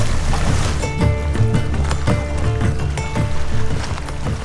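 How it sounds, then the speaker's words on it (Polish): A motorboat runs on the water, with a loud, steady engine drone and rhythmic knocking pulses carrying on continuously near at hand. "Po zebraniu rozbitka motorówka dopłynęła do nas"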